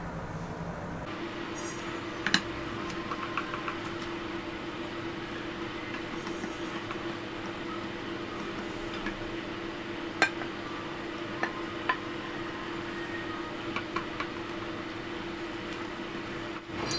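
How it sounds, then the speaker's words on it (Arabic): An electric mixer beats eggs into a creamy butter mixture for Eid biscuits, a steady mid-pitched whine running throughout with occasional clinks of a bowl. "بيضه بيضه كده نضربها"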